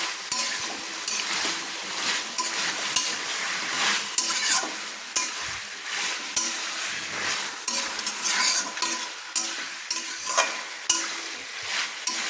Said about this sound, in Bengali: টোটাল আমি 2 চামচ আদা রসুন বাটা দিয়ে কিন্তু চিকেনগুলোকে একটু নেড়ে নিচ্ছি।